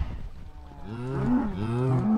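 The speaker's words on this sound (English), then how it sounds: "Oh, those cows are so loud!" Loud, insistent cow moos from livestock on a video game farm, with several drawn-out lowing calls overlapping one another in quick succession.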